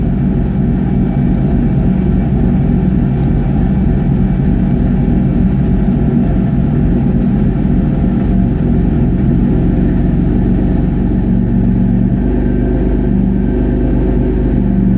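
A 1999 Nissan Frontier with a turbo engine running rough at a struggling idle, a loud, steady, close low rumble that holds for the whole stretch with no talking.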